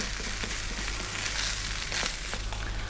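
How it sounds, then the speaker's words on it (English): Day-old cold garlic rice frying in a hot pan, a steady dense sizzle with scattered crackles and the scrape of stirring, close and continuous without talk. "we're going to fry this around now for about 4 to 5 minutes"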